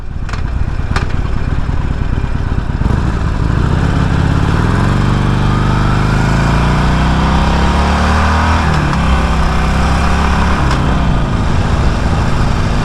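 A Harley-Davidson Forty-Eight Sportster motorcycle rumbles steadily while being ridden, its loud low engine note rising and falling with throttle changes, with wind noise mixed in and no talking.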